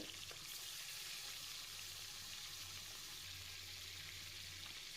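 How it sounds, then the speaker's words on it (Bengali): Bhola fish frying in oil in a wok, a faint, steady sizzling hiss with a low hum beneath, no speech. "এবারে আমরা মাছটা ভেজে নেব কড়াইতে তেল দিয়ে।"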